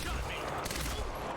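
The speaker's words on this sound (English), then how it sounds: "Asshole shot me." Gunfire in the Quantum Break video game, a dense, unbroken spray of sharp shots for a second or so, close and loud throughout.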